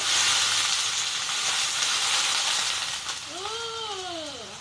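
Water poured into a hot pan of stir-fried blue crab with curry powder, bursting into a loud steady hiss and sizzle that fades slightly toward the end, with a voice rising briefly over it.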